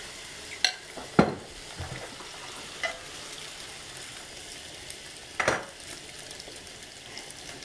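Eggs scrambled in a hot pan, a constant low sizzle with a few sharp scrapes and clinks of the utensil against the pan at intervals, close and fairly quiet.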